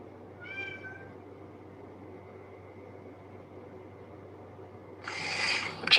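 A house cat meows once, a short faint call near the start over a quiet steady room hum, followed later by a louder rustling noise.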